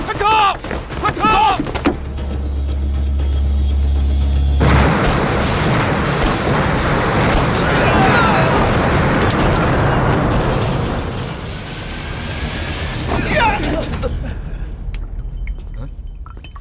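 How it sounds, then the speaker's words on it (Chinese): In a kung fu film, a dock explodes with a loud, sustained roar and deep rumble lasting around ten seconds before it slowly fades, with voices heard around it. "好像是永兴码头爆炸了"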